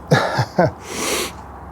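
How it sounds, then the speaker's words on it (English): Two quick breathy catches followed by a hissing, sneeze-like burst, close and fairly loud, with no talking. "I'm going to sneeze."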